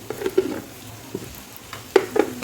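Green chilies with chili powder, turmeric and salt fry in a pan, heard as a soft sizzle with several sharp stirring clicks and scrapes close by.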